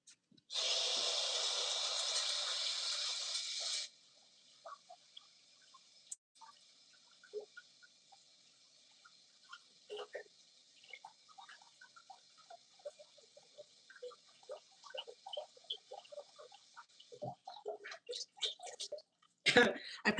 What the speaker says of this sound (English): Let me wash my hand, please.